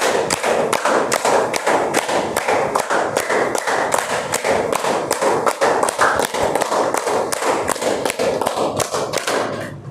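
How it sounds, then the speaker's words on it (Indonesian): A classroom of students claps hands together in a steady counted rhythm, sharp loud slaps repeating evenly throughout with barely any voices over them. "tepuk 2, tepuk 3, tepuk 4, tepuk 5. 5 kali tepuk 5."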